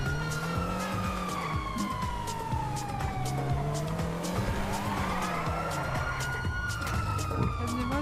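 A police siren wails and sweeps up and down in a GTA roleplay game, mixed with car engine noise and tire skids, moderately loud over a busy game soundscape.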